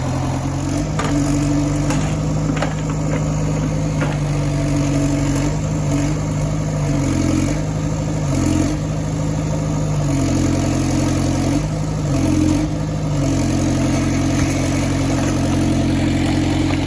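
A diesel engine of heavy machinery, freshly refuelled with injectors bled, runs loud and steady close by, a low rumbling drone with slight periodic shifts in pitch, no talking.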